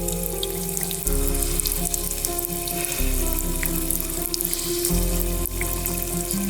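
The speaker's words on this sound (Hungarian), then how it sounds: "A szikla repedéseiben időnként sivítást, sustorgást lehet hallani." Carbon dioxide gas escapes from cracks in the rock at a salt spring, a close fizzing, sizzling hiss with bubbling water that swells and drops back in uneven surges, no voices.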